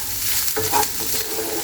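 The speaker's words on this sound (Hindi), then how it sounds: "अब इन सारी चीज़ों को सौटे करें लगभग 1 से 2 मिनट तक," Onion filling for pyaz kachori is sautéed in a pan, giving a steady sizzle under a brief scrape of the stirring spoon against the pan, close and clear with no talking.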